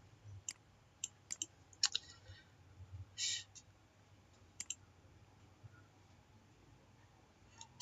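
A computer mouse clicks sharply and close by, scattered single and double clicks with pauses between them over a faint background hum.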